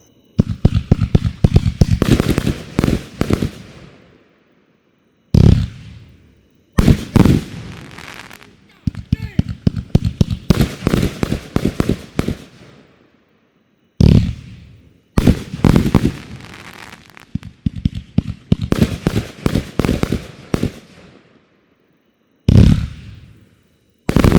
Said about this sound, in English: 48-shot fan cake, Pyro Fortune